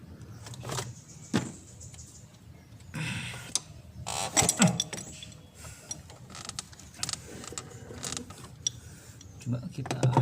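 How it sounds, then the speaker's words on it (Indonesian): A car's oil filter being loosened with a dedicated oil filter wrench on a Mitsubishi Pajero Sport, giving creaking, ratcheting metal clicks and scrapes in irregular bursts, close and moderately loud, with no talk. "Ini saya lagi ngelepas filter oli ya, pakai kunci lepas filter oli ini ya"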